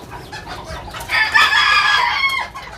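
A Serama rooster gives one clear, fairly close crow lasting about a second and a half, rising out of a quiet farmyard background with soft low noise and no talk.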